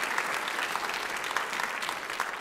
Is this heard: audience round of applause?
yes